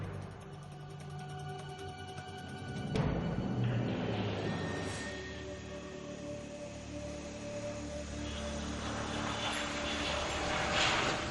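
Aircraft landing with engine roar and a broadband rumble that swells after a sharp onset and stays steady, heard from fairly near.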